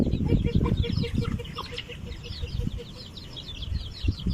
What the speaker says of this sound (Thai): อันนี้ลูกไก่ชนเรา